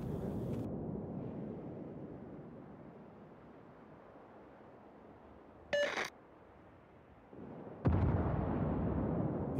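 Naval video game gunfire: two short booming ship-gun reports, a few seconds apart and moderately loud, over a low ocean rumble with no talk.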